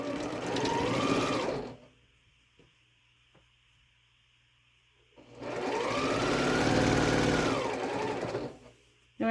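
A sewing machine stitches a star quilt block in two steady, close runs of a few seconds each, whirring loudly, with a quiet pause between them.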